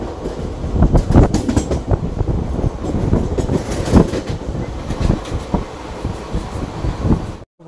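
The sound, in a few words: Haldibari-Kolkata Intercity express train running on rails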